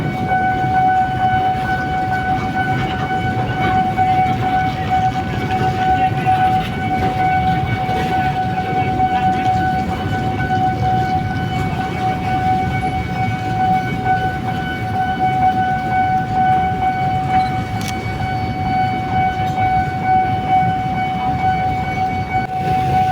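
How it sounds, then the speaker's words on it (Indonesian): A steady, continuous rumble of a train moving slowly over tidal-flooded rails in Jakarta, with a sustained whining tone rolling on throughout, close and fairly loud, with no voices. "Kereta tidak bisa melaju dengan kecepatan yang tinggi karena air menggenangi sebagian rel kereta."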